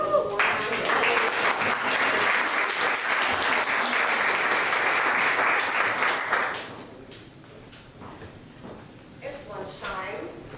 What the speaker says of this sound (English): So please give her a warm round of applause.